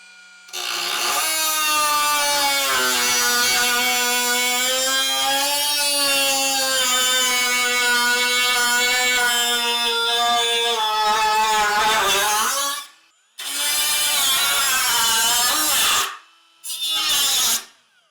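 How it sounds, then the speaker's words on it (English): A power tool cuts through the rusted steel fender of a BMW E30 with a loud, high, strained whine that holds for about twelve seconds, then stops and restarts in two shorter bursts. "I can just cut wherever the rust stops on the edge and save this piece"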